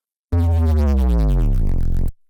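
A heavy drum and bass wobble sub bass synth sounds alone, its pitch sliding steadily downward under an LFO sweep for about two seconds before cutting off abruptly.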